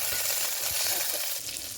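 A South Indian tempering of mustard seeds, cumin and garlic crackles in hot oil, producing a loud, dense, continuous sizzle heard close up with no talking.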